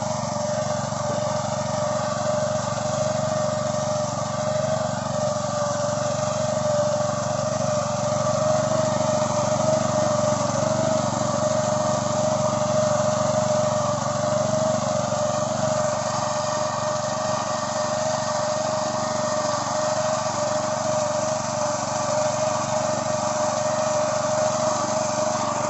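A Kamco power reaper engine runs steadily while cutting a wheat crop, a continuous loud mechanical drone with a high whine that holds evenly from start to finish, with no talking.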